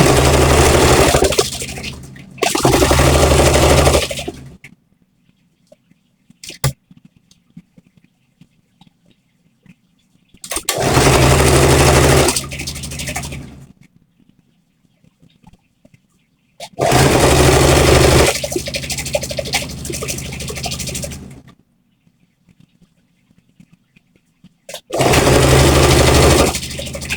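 Sewing machine stitching two gathered fabric layers of a dress from the hem, running in four loud bursts of several seconds each, separated by near-silent pauses.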